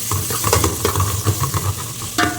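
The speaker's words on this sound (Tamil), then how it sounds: "இதோடு சேர்த்து இப்போது பச்சை மிளகா போட்டுக்கலாம்." Green chillies stirred into biryani masala frying in a pan, a steady loud sizzle with repeated scraping stirs and a light clink near the end, no voices.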